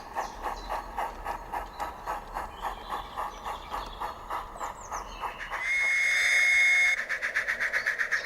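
A model railway train clatters along in a steady rhythmic chug as it arrives at a station, with a sustained whistle-like tone midway before the clicking resumes.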